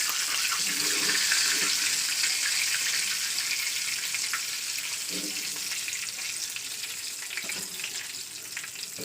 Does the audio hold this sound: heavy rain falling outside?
yes